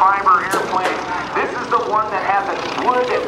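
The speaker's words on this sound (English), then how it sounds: "the skill he has with an airplane that was designed as a primary trainer" A primary trainer airplane with a wood and tubular steel fuselage and fabric-covered wooden wings drones through aerobatics at the 2008 NAS Oceana airshow, its propeller engine rising and falling in the distance beneath a commentator's continuous talk.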